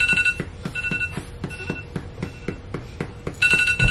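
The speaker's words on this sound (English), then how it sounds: "Turn the alarm off." A phone alarm rings loudly and close in a home, with a repeating bright electronic chime pattern that pulses steadily for several seconds, faint household noise underneath.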